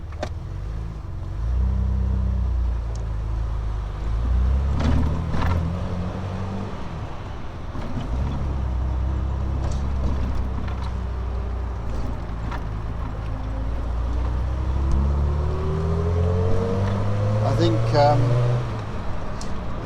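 A 1967 Triumph Vitesse 2 Litre fitted with new electronic ignition pulls away and drives, its engine rising and falling through gear changes beneath ongoing conversation inside the car.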